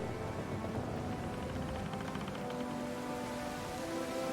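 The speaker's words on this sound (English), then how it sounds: "The rain drums against the deck." Rain drums steadily on a ship's deck during a storm in Pillars of Eternity 2, a dense, continuous patter of drops at moderate volume with no break.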